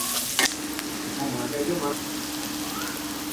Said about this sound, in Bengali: পেঁয়াজটা এখন একটু লাল লাল করে ভেজে নিতে হবে।